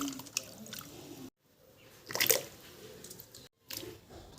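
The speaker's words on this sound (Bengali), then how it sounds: "এইভাবে করে আলুগুলোকে কেটে নিয়েছি এবার খুব ভালো করে একটু ধুয়ে নিচ্ছি" Cut potatoes are rinsed in water for a rural Bengali meal, giving soft squishing and dripping splashes, with a brief louder burst of sloshing midway between quieter handling sounds.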